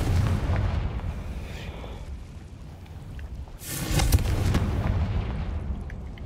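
A Confringo blasting spell explodes in Hogwarts Legacy, a heavy rumbling boom with a sharp second blast burst partway through, loud and close, trailing into a rolling roar with no speech over it.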